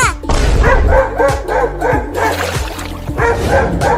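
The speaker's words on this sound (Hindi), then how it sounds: "वो दोनों कुत्ते उस बिल्ली को पकड़ने की कोशिश कर रहे हैं।" Several dogs bark and yip excitedly in quick succession, loud and close, with a few whimpering notes mixed in.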